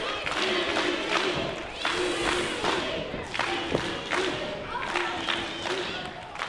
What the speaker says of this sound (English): Crowd rallying behind TDT.